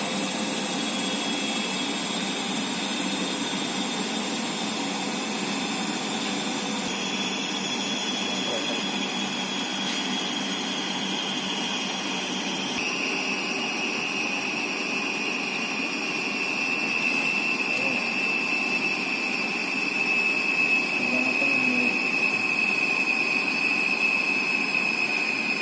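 A DC shunt machine running up to 500 RPM without excitation gives a steady electrical hum and a high whine. A sharper tone rises and brightens toward the end as the machine speeds up, close and continuous throughout.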